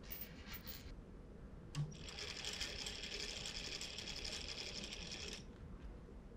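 A small DC motor whirs steadily for several seconds while hoisting a little bucket loaded with screws, starting after a brief pause and stopping abruptly, fairly close and alone.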